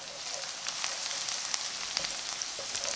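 Garlic fries in a pan for pasta with meat sauce alongside onion and pepper, giving a constant bright sizzle up close, with faint intermittent scrapes of stirring.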